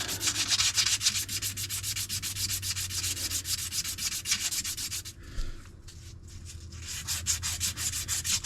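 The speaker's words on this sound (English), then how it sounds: "spindle with a little bit of sandpaper, emery cloth, or whatever you want to call it" A spindle is sanded with sandpaper or emery cloth in fast, even back-and-forth rubbing strokes, loud and close. A short pause in the middle is followed by the rubbing again.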